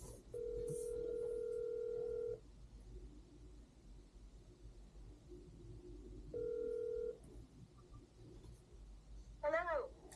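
A phone call goes out through a speakerphone while someone prepares pasta, with two long ringback tones separated by a quiet gap and a short burst of dialing tones near the end.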